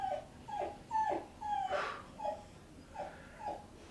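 A dog whimpering indoors: about eight short, high, plaintive whines in a steady, evenly spaced series, close by and clear against a quiet room.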